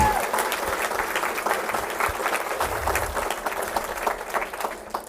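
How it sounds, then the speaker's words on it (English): An audience at a school board meeting gives a hearty round of applause, dense continuous clapping with a few voices mixed in, tapering slightly at the end. "give them a great big round of applause"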